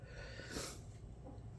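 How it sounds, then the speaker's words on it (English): A single forceful nose blow after eating a very hot chip, a burst of breathy air midway through, with soft sniffling and low background noise around it. "you don't want to keep seeing me blow my nose or wipe my nose all the time"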